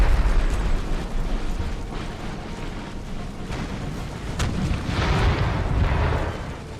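Cannons fire canister shot on a battlefield in Empire Total War, with booming blasts and rumbling explosions layered over dense, continuous battle noise, and no talk.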